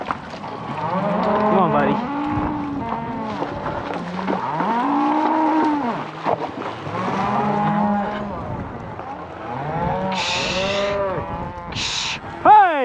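Cattle on a high country cattle drive moo repeatedly in long, drawn-out calls, some near and loud, others overlapping farther off, while someone speaks briefly to an animal.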